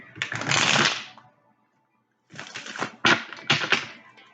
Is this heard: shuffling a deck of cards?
yes